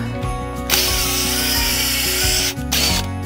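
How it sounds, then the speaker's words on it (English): A power auger grinds into clay soil for bulb planting, a loud steady mechanical whir with a ratcheting pulse that stops briefly near the end and then restarts. "Gosh, I love this auger."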